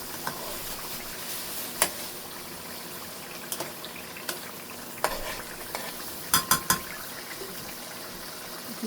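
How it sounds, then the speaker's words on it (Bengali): Hilsa fish pieces fry in spiced masala, giving a soft continuous sizzle with scattered sharp clicks and clatters of a utensil against the pan, close by and without speech. "মাছটা জাস্ট একটু ভুনে আমি তুলে রাখবো"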